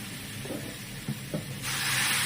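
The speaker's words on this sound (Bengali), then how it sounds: "নিয়ে আলুটা সেদ্ধ করার জন্য জল ঢেলে দেবো" Water poured into a hot pan of soybean and potato curry sets off a sudden, loud, sustained hiss after a few soft knocks.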